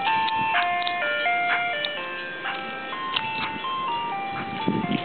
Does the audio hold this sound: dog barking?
no